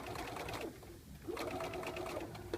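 A sewing machine stitches a fly front zipper in two steady runs of fast needle strokes, separated by a brief pause with a rising whine as it restarts.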